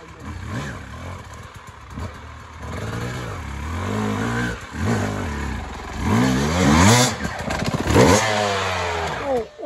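Motorcycle revving hard and accelerating up through the gears at a yard, engine note rising and falling in strong pulls, loud and close throughout.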